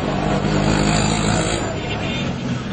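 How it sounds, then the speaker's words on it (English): Busy road traffic on a dusty, noisy street in Pakistan, a dense steady roar of engines with motorbike and car sounds blending into one continuous loud wash, with possible faint voices mixed in. "It's dusty, it's noisy, there's so much traffic on the road."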